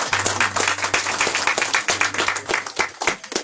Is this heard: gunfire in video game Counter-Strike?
no